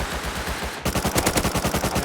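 AK rifle fire in the survival game Rust: after a brief pause, a rapid burst of loud, evenly spaced gunshots in quick succession, close and punchy with no talking.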